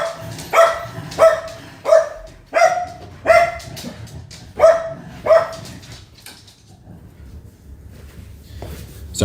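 Several dogs bark in a steady series of about eight loud, evenly spaced barks, then fall quiet before a final faint yelp.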